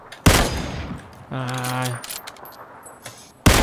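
Gunfire in PUBG Battlegrounds: two loud, sharp bursts of shots at the start and the end. Between them sit a tonal in-game sound and quieter clicks, and a brief exclamation from a player.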